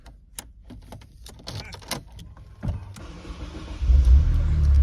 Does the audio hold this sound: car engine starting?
yes